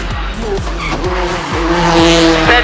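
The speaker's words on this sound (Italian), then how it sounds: "sente il motore che sale perché abbiamo ora un bel motore per il turbo" A Peugeot 208 T16 rally car engine revs hard, repeatedly climbing in pitch as it shifts up through the gears, loud and close with tire noise and turbo.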